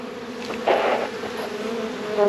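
Honeybees buzzing around an opened hive, a close, steady droning hum with individual bees swelling louder as they pass near.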